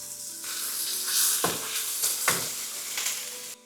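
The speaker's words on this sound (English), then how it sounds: "Let it sear properly until golden and caramelized." Lamb searing in a hot pan for lagman, a steady close sizzle with a few louder hisses and bursts as the meat shifts, no voices.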